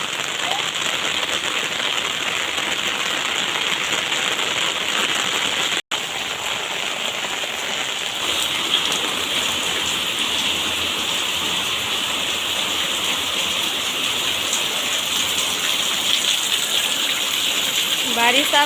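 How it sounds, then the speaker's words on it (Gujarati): Heavy rain pours down over a village in a loud, unbroken hiss of water striking surfaces and running off, steady and close throughout. "જો કેટલી બધી બારિશ થઈ ગઈ છે અને ઘણું બધું પાણી જઈ રહ્યું છે।"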